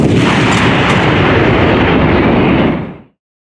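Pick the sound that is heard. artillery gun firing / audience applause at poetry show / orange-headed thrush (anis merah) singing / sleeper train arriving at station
artillery gun firing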